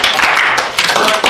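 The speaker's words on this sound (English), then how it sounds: "Any round of applause, guys." Applause at the end of an extra credit class presentation, a steady wash of clapping from a small audience that runs through the whole moment, close and fairly loud.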